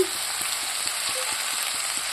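Raw pumpkin sizzles steadily in a hot pan, a constant hiss with faint stirring clicks and no voices.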